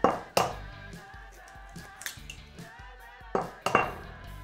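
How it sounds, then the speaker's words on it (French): Eggs cracked one after another into a bowl for a pistachio loaf cake, with sharp clacks of shell against the rim and light clinks of kitchenware, close and quiet, with no talking. "Je vais casser les œufs."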